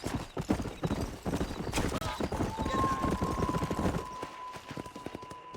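Horse hooves gallop in the Western video game Red Dead Redemption, a dense, rapid clip-clop that runs throughout. A sustained tone and faint voices sit in the background.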